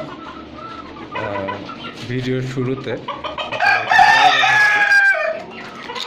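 A white tiger rooster in a backyard cage with native hens clucks in short bursts, then lets out a loud, drawn-out crow up close, with a voice speaking briefly at the start.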